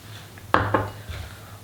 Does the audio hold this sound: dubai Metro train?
no